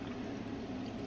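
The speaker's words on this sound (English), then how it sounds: "You put the water in." Water poured steadily into a rock tumbler barrel, filled to just below the level of the top rocks, giving a continuous close splashing pour with no talk.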